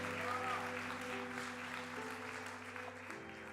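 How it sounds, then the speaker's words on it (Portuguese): Church congregation applauding during a sermon, a continuous wash of clapping under sustained organ or keyboard chords that linger throughout. "Você pode aplaudir Jesus?"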